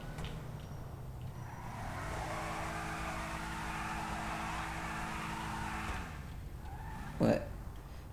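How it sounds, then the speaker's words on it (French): A big-engined Gauntlet car in a video game drones steadily and revs up to a sustained higher tone before dropping off, followed by a short sharp burst near the end. "Je vous fais écouter le bruit"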